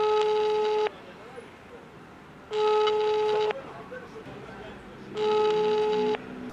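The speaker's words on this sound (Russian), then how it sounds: "Гудки идут, но на другом конце провода упорно молчат" Telephone ringback tone on an unanswered call: three long, loud, steady beeps about a second each, separated by quiet gaps with faint background noise.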